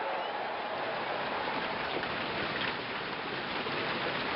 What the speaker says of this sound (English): It's been raining here for a while.